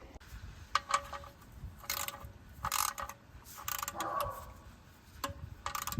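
A ratchet clicks in short bursts while a part is tightened on a 2017 Toyota Highlander during an oil change, quick close metallic rasps separated by pauses and small handling noises.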